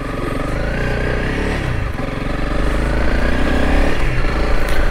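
Honda CRF 300L Rally motorcycle pulling away, the engine note rising as it revs and accelerates, loud and close with some rattling clatter, no talk.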